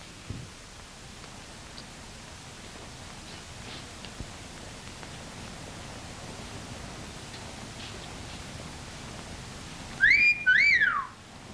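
A railway worker's short two-note whistle, a rising and falling call repeated twice, sounds near the end over a steady background hiss.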